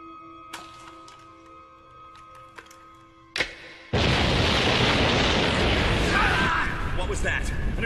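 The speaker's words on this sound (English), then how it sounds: "I've already blown up the 2 entrances to this place." An explosion blows open a building entrance: after a few faint knocks and a sharp crack, a sudden loud blast erupts and settles into a sustained roaring rumble with debris, close and dominant.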